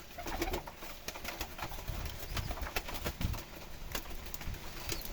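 Turkish tumbler pigeons in a new flight loft, soft low cooing repeated in short bursts, fairly quiet and close, with no talk.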